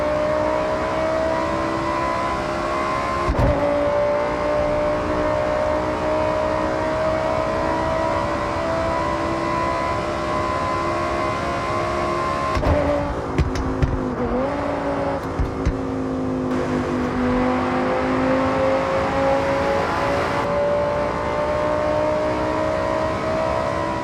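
A Lamborghini Huracán with a 610-horsepower engine and a seven-speed dual-clutch gearbox, driving with a loud sustained engine tone that rises through revs, with sharp gear changes and throttle blips partway through, close and without talk.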